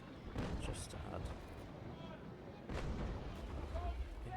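Naval artillery in the World of Warships video game fires at a ship's stern in heavy, booming salvos over a rumbling battle background, with a voice talking throughout.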